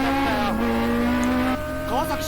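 Racing cars from a 2001 naturally aspirated 10,000 rpm battle, including an S2000 and an Altezza, hold steady high engine tones with shifting pitches, dropping and rising again near the end, loud and continuous under talk.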